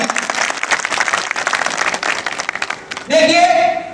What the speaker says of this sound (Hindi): एक बार जोरदार तालियों से जोरदार